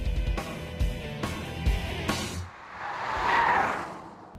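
A 585-horsepower Kia EV6 GT electric car drives hard on a racetrack. Several thumping bumps lead into a rising whine and tire squeal, heard close with road noise.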